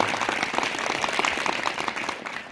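Audience applause welcoming a guest at an inter-school Naat competition in a government high school: dense, steady clapping from a crowd that holds evenly for a couple of seconds with no voices over it.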